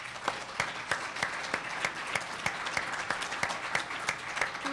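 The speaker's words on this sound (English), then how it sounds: "Please join me in giving all of our candidates a rousing round of applause." An audience at a Minneapolis mayoral candidate forum claps for the candidates, steady applause from a moderate-sized crowd with sharper individual claps standing out, heard from a middle distance.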